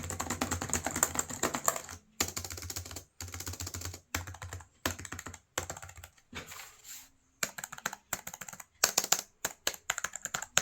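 Typing on a Perixx PERIDUO 613B wireless chiclet keyboard, bursts of quick close key clicks broken by short pauses, fairly quiet and alone.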